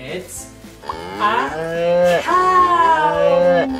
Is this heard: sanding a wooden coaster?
no